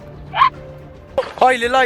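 A person imitates a dog barking outdoors during a city-wide hide-and-seek game: a short yelp, then a longer harmonic bark-like cry, with brief speech in between.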